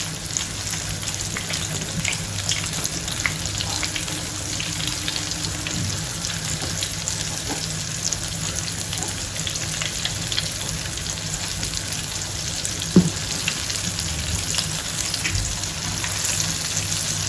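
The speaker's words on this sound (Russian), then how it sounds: "И начинаем жарить карасей." Flour-dredged crucian carp frying in heated oil in a pan, a steady broadband sizzle and crackle running continuously throughout, close and moderately loud, with an occasional louder pop and no talking.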